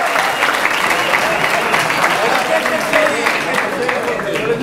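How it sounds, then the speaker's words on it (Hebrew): A live audience at a rabbi's lecture in Or Yehuda breaks into sustained, even applause, dense clapping holding steady throughout without a pause. "מגיע לו מחיאות כפיים!"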